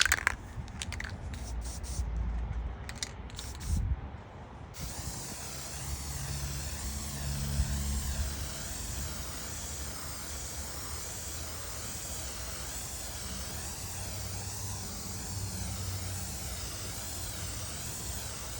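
A spray gun hisses continuously after a few short bursts, spraying pre-catalyzed sanding sealer onto a guitar body, a steady close airy spray sound lasting well over ten seconds.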